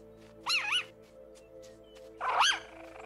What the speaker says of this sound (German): Die bellen ja wie Hunde.